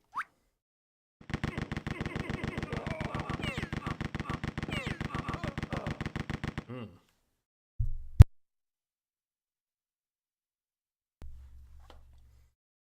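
Rapid automatic gunfire from the shooter Rise of the Triad rattles in a fast, evenly spaced burst lasting about five seconds, followed by a couple of short isolated shots and thuds amid silence, with no talking.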